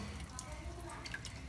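Hands being washed under running water, a faint, steady trickle with scattered drips close by and low background noise, during Tihar festivities in Nepal.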